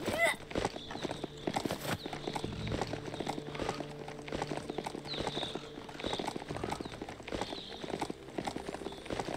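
Hooves of a horse mount clip-clopping steadily in the video game Biomutant, a continuous rhythmic trot over game music and ambience at moderate loudness.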